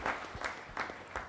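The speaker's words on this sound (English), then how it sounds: "So if you could have a round of applause for all the community health workers." Brief, faint applause at a stakeholder summit for community health workers, a few soft, separated claps with nothing else over them.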